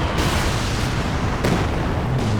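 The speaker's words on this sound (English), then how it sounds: "A lot of those Calliope rounds landing on the silo" Calliope rocket artillery rounds crash down on a silo in Company of Heroes 2, a dense continuous rumble of overlapping booms with a couple of sharper bursts standing out, loud and unbroken throughout.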